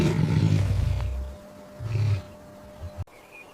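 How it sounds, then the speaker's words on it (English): A lion roars in the wild: a deep, rumbling roar followed by a second shorter roar, both heavy and resonant, with no talking. "They can hear another lion's call from over 8 kilometers away."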